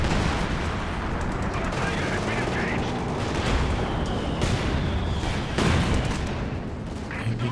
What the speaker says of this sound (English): artillery's just coming in for the Brits